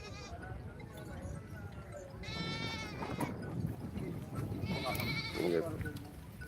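Goats bleating at a busy livestock market in Dhanaula, with several wavering bleats rising from the crowd while people talk nearby.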